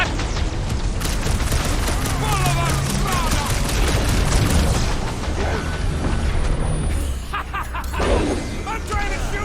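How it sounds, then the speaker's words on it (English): Rapid bursts of gunfire from shooting in the Guardians of the Galaxy video game, dense and continuous with impacts and explosive hits, while voices talk excitedly over the action. "I'm trying to shoot"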